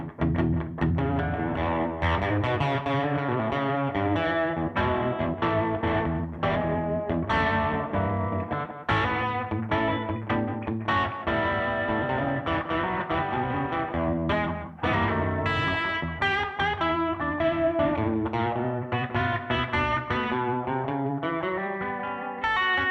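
Electric guitar played through a Bigfoot Effects Magnavibe modulation pedal at a live session, a continuous run of bright, wavering notes and chords with a swirling, slightly overdriven tone, loud and steady with no talking.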